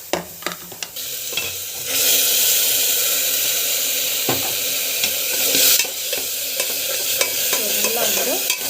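Ingredients sauté in a pan with a continuous sizzle and intermittent clattering stirs and scrapes, close up with no voices.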